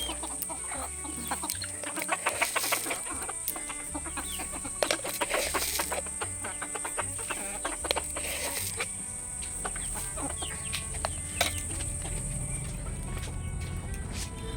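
Chickens cluck continuously around a rural village home as they gather in front of the house for feeding at dusk, a steady moderate chorus of hens with scattered sharper calls.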